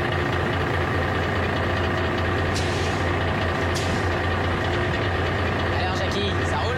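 A truck engine rumbles steadily at close range with two short hissing bursts of its air brake midway, while people talk over the engine noise.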